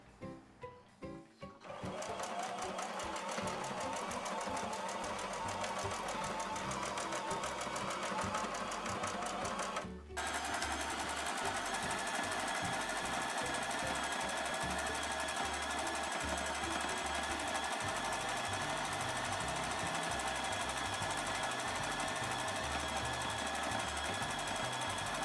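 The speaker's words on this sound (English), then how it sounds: "Now we are going to sew all around it." A sewing machine stitches steadily all around the edge of a handmade fabric tote bag, running as a loud, continuous close-up whir with a brief stop near the ten-second mark before carrying on.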